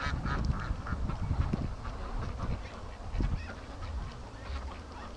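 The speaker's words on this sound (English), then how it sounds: "come on, ducks, come on home" Muscovy ducks near a pen call in a busy chorus of close, raspy honks and quacks that overlap and rise and fall without pause.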